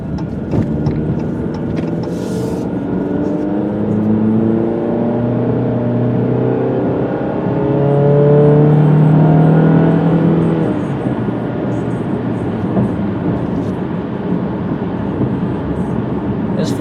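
A four-cylinder car engine drones steadily, with its hum swelling louder and higher for a few seconds midway before settling back to an even idle-like run; no talking.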